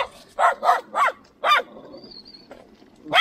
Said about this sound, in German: Hier sind Hunde oder wie das heißt. Die bellen rum, die machen diese Wow-Wow-Wow-Geräusche.